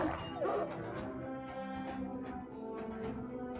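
A dog in a video game barks and whimpers: a string of yips and whining cries, fairly close and loud, over a busy background of in-game noise.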